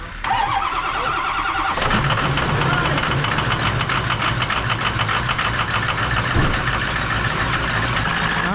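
A Ford F-350 with a 6.0 Power Stroke diesel cranks briefly on a single battery, then fires and settles into a loud, rattly, clattering idle close by.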